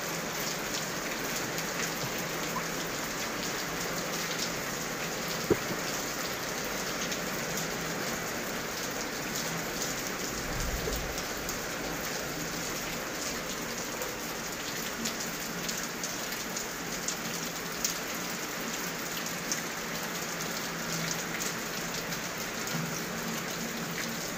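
Steady rain pours down, a dense continuous hiss of drops hitting surfaces, with no voices and only a faint thump or two.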